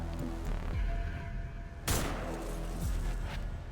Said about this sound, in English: the gunfire sounds pretty good now